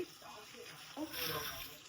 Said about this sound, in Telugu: చింతపండు నానబెట్టుకున్నాం కదా దాంట్లో నుంచి పల్పు వాటర్ అంతా తీసేసి చింతపండు రసం దీంట్లో పోసుకోవాలి